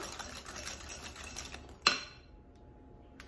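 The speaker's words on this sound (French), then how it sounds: "Mélange bien." A utensil stirs chocolate cake batter in a bowl with soft, continuous scraping, ending in one sharp clink against the bowl's rim before near silence.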